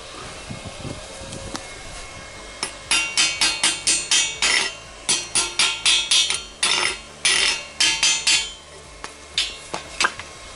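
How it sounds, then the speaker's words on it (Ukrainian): A run of sharp metallic hammer blows rings out in a quick, uneven rhythm, close and loud, after a quieter start with faint knocks. "молоток."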